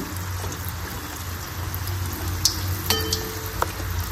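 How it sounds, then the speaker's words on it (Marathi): Jaggery anarsa deep-frying in oil while hot oil is spooned over the poppy-seed-topped side, a soft continuous bubbling sizzle with a few light clinks of a metal slotted spoon. "वरती तेल असं झारीने उडवत राहायचं, म्हणजे वरची बाजू छान तळली जाते"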